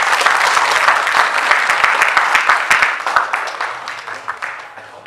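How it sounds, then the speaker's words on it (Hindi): A theater audience bursts into loud applause for the performers of a Hindi stage play, dense clapping that starts strong and gradually thins into scattered, more distinct claps as it tapers off. "मैं चाहूंगा एक बार जोरदार तालियां बजा दिया जाए।"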